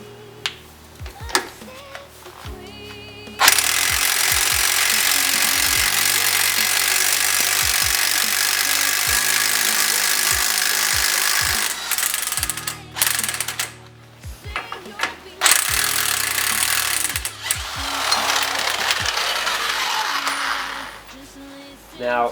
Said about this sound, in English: we get our 30mm socket, we put it on, and we start impacting